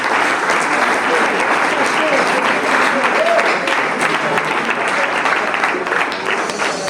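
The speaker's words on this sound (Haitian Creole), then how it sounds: "On applaudit Josué." Sustained, loud audience applause for a prize winner at an annual holiday celebration, dense and even from start to finish with crowd noise blended in.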